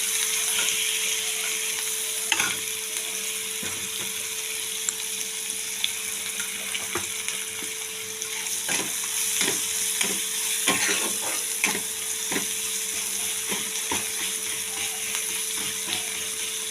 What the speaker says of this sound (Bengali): এটাকে লাল লাল করে একটু ভেজে নেব,